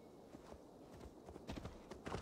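Hooves clip-clop in an uneven run of hits, growing a little louder toward the end, over a steady low background, from a horse in the video game Assassin's Creed Valhalla.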